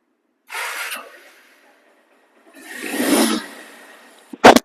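A second-hand double-disc motorcycle's engine is revved in short roaring bursts: one brief rev, a longer swelling rev after a silent gap, then a sharp loud blip at the end.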